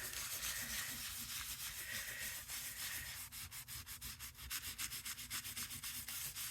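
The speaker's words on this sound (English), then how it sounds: "so basically we're just buffing it and bringing out the shine" Luster wax being buffed onto a paper card with a silver finish, a steady dry rubbing and scratching that runs throughout, growing into a quicker rhythmic back-and-forth scrubbing in the second half, close and fairly loud.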